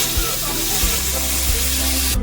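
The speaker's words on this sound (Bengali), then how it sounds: "একটা শুকনো লঙ্কা আর তেজপাতা দিয়ে একটু ভাজা ভাজা করবো" Dried red chilli, bay leaf and cumin seeds sizzle in hot oil, a dense, even crackle close by with no one talking.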